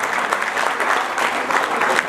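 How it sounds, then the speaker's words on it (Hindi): Listeners at a Hindi poetry recital clap loudly together, a thick, lively burst of applause with slight surges, fairly close and with no talk over it. "अगर तालियां बजाना हो तो बजा दीजिए, जोरदार तालियां बजाइए।"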